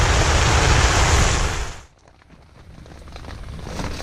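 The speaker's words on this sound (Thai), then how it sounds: "นอนฟังเสียงฝนอยู่ในเต็นท์นะครับ" Rain falls steadily on a tent with a ground tarp during a rural Thai camping stay, a dense loud hiss that dips briefly and then builds back up, with distant thunder possible.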